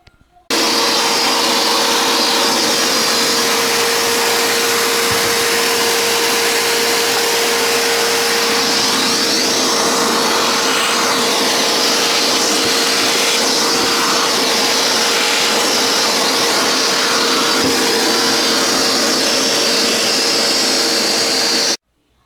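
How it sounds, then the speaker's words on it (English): A power drill drilling holes in drawers runs with a steady high-pitched motor whine for about twenty seconds, close and loud, with no talking. "And now I'm going to drill and get ready."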